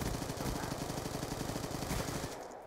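Sustained fully automatic gunfire in Black Ops 2, a fast rattling stream of shots loud and close for nearly three seconds before tailing off, no voices.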